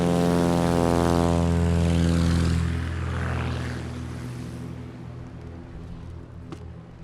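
Propeller airplane in the heavy touring class at a STOL competition, its engine and big prop droning loud and close with strong harmonic buzz, then fading and receding as the aircraft pulls away.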